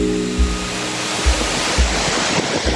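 Josephine Falls, a cascade of multiple waterfalls, roars as a loud, steady broadband rush of falling water close by, with soft thumps from handling the recorder and no talking.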